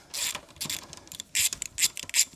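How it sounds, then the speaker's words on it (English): A socket wrench ratchets on a nut of a Surron LBX electric dirt bike, giving several quick bursts of sharp metallic clicking close up with short pauses between strokes. "We're just gonna loosen this nut all the way off."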